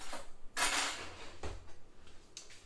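Kitchen utensils clatter and rattle as someone rummages through a drawer for a small spatula, a few short metallic clinks and knocks close by in an otherwise quiet room.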